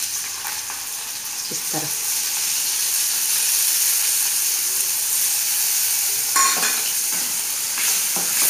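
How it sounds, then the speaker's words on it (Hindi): Boiled peas with red and green chillies sizzle in hot oil in a pan, a steady frying hiss with a few scraping stirs, and a brief spoken comment near the end. "अब मैं इसमें मैंने जो बॉईल किए थे मटर, वो मटर डाल दूँगी"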